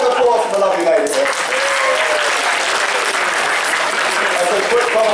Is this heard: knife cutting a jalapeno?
no